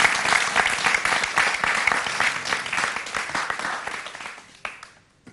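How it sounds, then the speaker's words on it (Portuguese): Studio audience applause on a live entertainment show, brisk and full at first with distinct sharp claps, gradually thinning and dying away to a few last claps. "Uma salva de palmas, faz favor."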